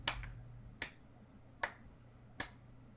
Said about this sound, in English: Is somebody slow clapping me?